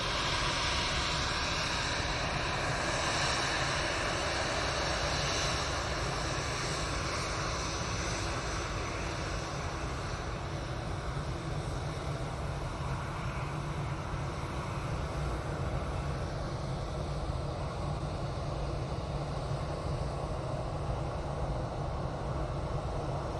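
A jet airliner at Manchester Airport departs for Dusseldorf: a loud, continuous engine roar that holds steady throughout the clip with no voices over it.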